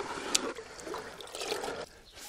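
Water pours and trickles into slaked lime (Sumpfkalk) in a container to make limewash, a brief splashing, gurgling pour heard close up, ending abruptly.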